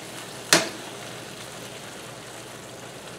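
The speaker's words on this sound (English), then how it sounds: "Let me give this a good stir." Meat frying in a pan with a faint, steady sizzle and one sharp scrape of a stirring utensil near the start.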